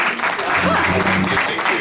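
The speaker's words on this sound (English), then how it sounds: "Can I get a round of applause for me?" Audience applause at a youth and cultural heritage conference panel, a broad wash of clapping mixed with a voice speaking over it, steady throughout.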